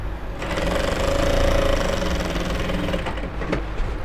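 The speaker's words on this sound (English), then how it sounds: "then you stitch all through down this way" Sewing machine running a steady continuous stitch along the seam of an Ankara top, a loud close mechanical whir that holds for about four seconds without a break.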